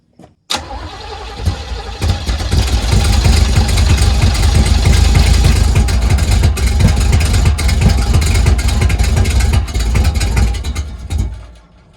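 A 1980 Pontiac Grand Le Mans G-body engine cranks and catches, then runs loud and rough for about ten seconds with its carburetor on fire, close up, before cutting off abruptly.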